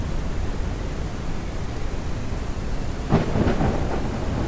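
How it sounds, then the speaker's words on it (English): A thunderstorm in the mining game Out Of Ore, with steady heavy rain hissing throughout, then a close crackling thunderclap and rumble breaking through near the end. "But hopefully the storm will pass."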